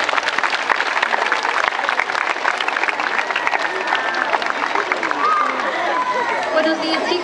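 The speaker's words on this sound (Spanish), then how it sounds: "Entonces la recibimos con un cariñoso aplauso." A crowd of children and adults at a primary school Christmas event applauds steadily to welcome a teacher, a thick wash of clapping with scattered high voices and calls mixed in.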